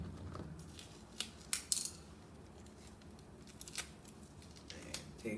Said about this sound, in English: Cut the tape.